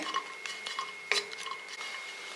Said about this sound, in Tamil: அதை வெறும் சட்டியில் போட்டு நம்ம வறுத்துக்கலாம் கொஞ்சம் ட்ரையாக ரோஸ்ட் பண்ணிக்கோங்க